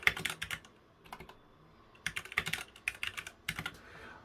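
Bursts of quick typing on a ghost-style computer keyboard, crisp clustered key clicks in short runs separated by brief pauses, close and clear with no talking.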